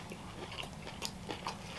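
Crisp bites into an air-fried chicken tender, with several sharp crunches spaced across about two seconds, close-up and fairly quiet with no talking.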